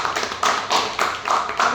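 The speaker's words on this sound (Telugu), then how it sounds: "give a big round of applause" A crowd claps rhythmically for a member of a movie team at an interview event, loud and close, in even bursts of roughly half a second with no talk.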